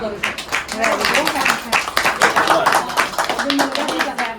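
A group claps steadily in dense, continuous applause at a friends' reunion party, with voices chatting underneath throughout.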